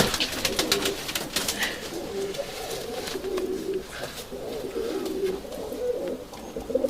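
White Istanbul pigeons cooing in a low, continuous murmur close by, with soft flutters of wing flapping and occasional rustling throughout.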